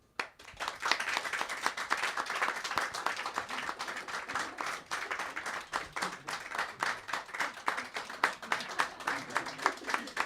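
A small theatre audience claps in sparse, uneven applause, individual hand claps clearly separate and fairly quiet, continuing for about ten seconds.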